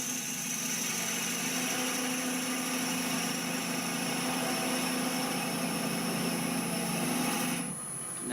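A spindle gouge cuts the stem of a long-stemmed wooden goblet on a wood lathe, giving a steady continuous whirring hum with a faint scraping hiss that holds for most of the clip, then drops away near the end.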